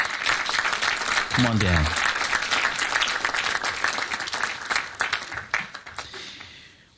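An audience at a city council meeting applauds the explorers with a sustained burst of clapping that fades toward the end, while a voice calls out over it.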